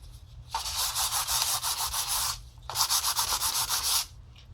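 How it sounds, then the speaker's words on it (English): Smooth sandpaper rubbed over a painted canvas in two long, steady passes of rhythmic scratchy strokes, close and fairly loud, separated by a short pause. "Next, I'm going to take the smooth sandpaper and go over it a little bit more."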